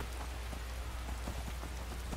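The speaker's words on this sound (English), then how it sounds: "I know that it's raining." Steady rain falls in the video game Skyrim, a dense, even patter of drops with a low rumble underneath, quiet and continuous with no other sounds.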